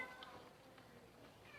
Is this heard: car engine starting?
no